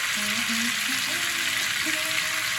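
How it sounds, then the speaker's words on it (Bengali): Cauliflower fries uncovered in a pan with a continuous bright sizzle close up, and a low voice speaks faintly beneath the crackle. "তারপরে আমি না ঢেকে ভাজছি তাহলে কপিটা গোটা গোটা থাকবে"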